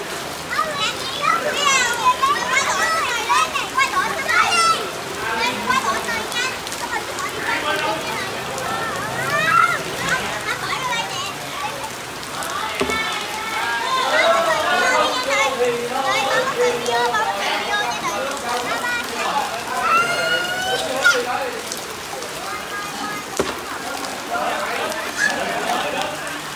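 Children shout and play while bathing in the rain outdoors, lively overlapping voices over a constant wash of rain and splashing water, close and busy throughout.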